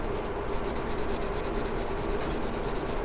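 A graphite pencil shades a gradient on paper with steady up-and-down strokes, giving a continuous dry rubbing scratch at close range, even in level with a quick regular stroke rhythm and no talking.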